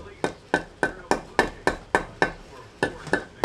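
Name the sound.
hammer striking while carving wood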